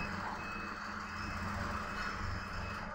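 A truck passes at a distance with a steady high reversing beep over low engine rumble, fairly faint and continuous.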